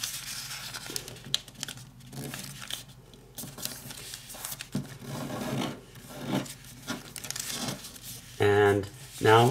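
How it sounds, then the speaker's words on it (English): Paper folded by hand for an origami arrowhead, close crinkling, rubbing and creasing in short bursts, with a person speaking between the folds. "fold this edge to the middle"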